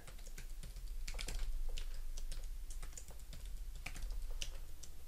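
Quick keystrokes clatter on a computer keyboard in irregular bursts, close and fairly quiet, with no talking.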